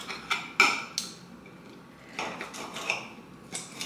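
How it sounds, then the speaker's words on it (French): A knife cutting pre-cooked lacquered pork rib meat into small pieces on a board, a series of sharp clicking chops and scrapes spaced irregularly, close and fairly quiet. "Donc là, je coupe ma viande en petits bouts."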